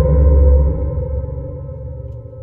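Geofón contact microphone stuck to a home oven grill, giving a low, droning metallic resonance with a reverberant ring that starts strong and slowly decays over a couple of seconds, alone with no talking.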